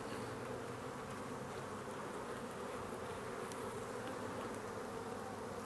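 Honeybees at an open hive recovered from a swarm, a steady, even buzzing drone throughout, soft and close with no voices.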